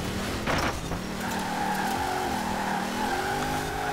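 Engine of a car drifting in Forza Horizon 4 revs and holds steady with shifting pitch, tyres squealing through a slide, loud and continuous throughout.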